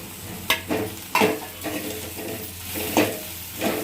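Okra pieces frying with turmeric in a pan, a steady sizzle with several sharp stirring scrapes and clinks spaced through it, close and fairly loud, no voices.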